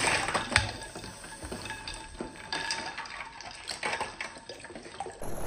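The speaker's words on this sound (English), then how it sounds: "then the water starts to boil, and you can see the hot steam and air escaping" Water heats to a boil inside an aluminum soda can, giving a steady bubbling, hissing rush with crackles and escaping steam, close and fairly quiet with no speech.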